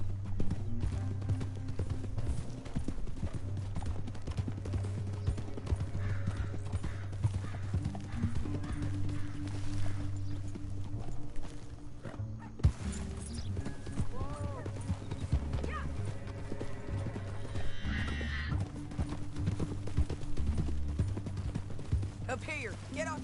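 In Red Dead Redemption 2 gameplay, hooves clip-clop steadily at a gallop under a constant low hum, with occasional whinnies and voices talking over the movement.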